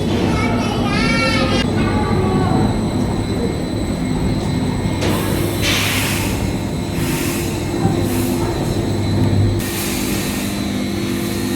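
A Jungfrau railway train in Switzerland runs along with steady wheel rumble and rail clatter, brief squeals and hiss bursts, heard from inside a nearly empty carriage, with faint voices in the background.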